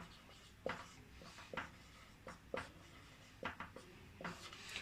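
A pen or pencil writes numbers by hand on paper, heard as soft, close, irregular scratches and taps with short pauses between strokes, fairly quiet and with no talking.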